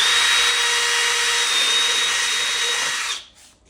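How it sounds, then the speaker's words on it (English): A power drill bores through a plastic center console piece during a console kit install, a steady high whine running loud for about three seconds before stopping abruptly. "So we're going to drill this one a little further."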